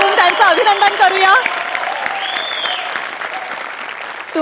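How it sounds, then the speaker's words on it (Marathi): A studio audience at a Marathi comedy TV show breaks into loud, sustained applause that carries on evenly throughout, with a brief stretch of music or a sung voice over it at the start. "एकदा जोरदार टाळ्या वाजवून त्यांचं अभिनंदन करूया"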